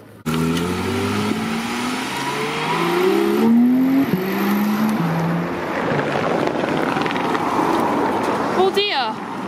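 Another supercar departs the runway at Supercar Fest 2022, revving up through several quick gearchanges as it pulls away, loud and close at first, under steady wind rumble with a brief high whine near the end.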